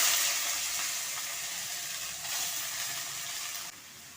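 Cumin seeds and asafoetida sizzle steadily in hot oil in a pan, a close, continuous frying hiss that drops slightly in level near the end, with no voices.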